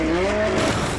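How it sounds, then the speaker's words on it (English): A VW car slides on a dirt junkyard race track into another car during a demolition-style race: a loud, steady whine of engine and squealing tires with rough broadband rumble, continuous for about a second with no talk. "VW slides into 5 Alarm and just creates a little line of cars on the track."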